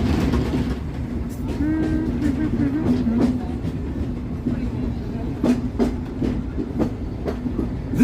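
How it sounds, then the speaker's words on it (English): Disneyland Railroad train rolling along the tracks, a steady rumble with rhythmic clicks of wheels over rail joints and a brief squeal, heard up close from a riding car. "Please make sure just to remain seated until the train comes into a full stop."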